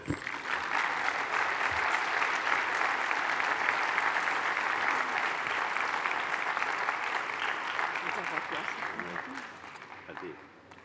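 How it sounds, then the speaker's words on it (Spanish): An audience at a forum inauguration applauds for about ten seconds, dense continuous clapping that holds steady before tapering off near the end. "Un aplauso, por favor."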